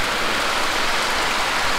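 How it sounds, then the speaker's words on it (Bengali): Heavy rain pouring down outdoors in the Sandakphu hills of West Bengal, a loud, unbroken wash of dense drops that stays constant from start to finish. "তো বাইরে এখন প্রচুর বৃষ্টি নেমেছে।"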